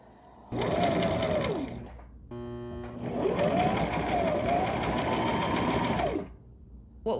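A sewing machine stitches steeking lines into a knitted pure virgin wool garment, two bursts of fast mechanical whirring with a short pause between, close and fairly loud, with no talking.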